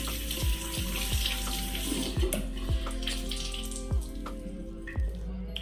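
Water runs steadily from a tap into a sink to dampen makeup brushes, a continuous close splashing broken by several soft knocks and thumps.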